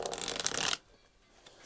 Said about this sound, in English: I'm gonna shuffle and pull some cards.